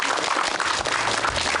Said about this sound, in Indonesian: Oke, tepuk tangan lagi boleh.